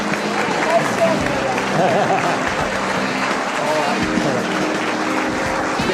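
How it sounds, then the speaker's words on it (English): An audience claps in sustained applause at a program event, a dense, steady wash of hands with crowd murmur and voices mixed in. "Please join me in a great, huge round of applause for this great program."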